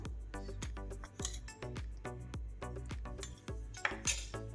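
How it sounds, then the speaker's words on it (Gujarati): A metal spoon stirring lemon juice and spice masala into a mint-lemon sharbat, clinking rhythmically against the vessel in quick repeated ringing taps, close and clear with no talk. "આવી રીતે મસાલાને આપણે આમાં મિક્સ કરી દઈશું"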